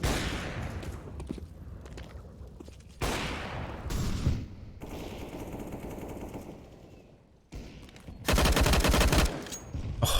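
Rifle spraying in a professional CS:GO match on Inferno, with loud bursts of automatic gunfire and wall-bang shots, some quieter exchanges between them and a heavy final burst.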